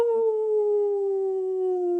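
A voice imitates a wolf howl: one long, steady, slightly falling tone held for about two seconds, close and alone.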